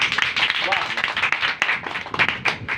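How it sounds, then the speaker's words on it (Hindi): Congregation clapping loudly at a religious gathering, a dense burst of hand claps with uneven rhythm and a voice talking over it. "इस बंदे के लिए एक बार जोरदार ताली।"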